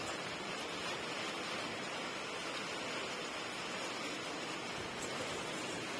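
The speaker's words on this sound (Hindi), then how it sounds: "बड़े खतरनाक तरीके वाली बारिश लगी है भाई।" Heavy rain pours outside as a steady, dense broadband hiss that stays constant and moderately loud throughout, with no other sounds standing out.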